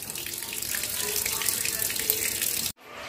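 Tap water pours steadily into the tub of a Whirlpool 7 kg semi-automatic washing machine, a continuous splashing hiss that stops abruptly near the end, leaving only faint room noise.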